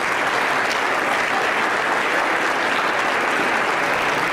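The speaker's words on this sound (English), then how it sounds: "so please give them a round of applause" A steady, dense round of applause fills the room at a junior high awards night, honouring the vocal students who earned a top rating, with no voices rising above it.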